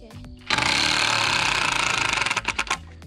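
A cordless drill drives screws into wooden horse-fence boards, starting with a sudden loud, sustained whir that runs for about two seconds before breaking into several short stuttering bursts as the trigger is released.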